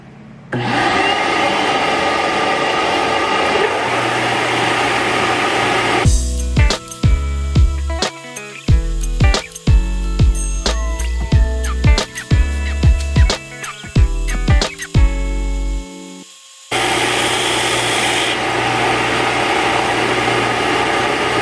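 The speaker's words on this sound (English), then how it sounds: "And we're doing that on the 6-inch belt sander." A 6-inch belt sander rough-shaping a small piece of oak into a cylindrical snail body, a steady loud motor whine broken in the middle by bursts of grinding as the wood is pressed on and lifted off the belt repeatedly.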